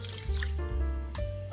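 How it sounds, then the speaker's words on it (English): Japanese short grain rice being washed in water, with wet squishing, swishing and small drips close by in a short burst. "Wash the rice until the water runs clear."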